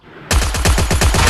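Rapid automatic gunfire in a shooter video game erupts after a brief quiet lead-in, a loud, close burst of evenly spaced shots rattling on steadily with no voices.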